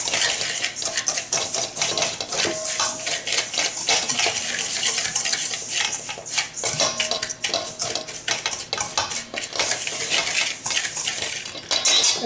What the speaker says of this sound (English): We're going to mix this until smooth.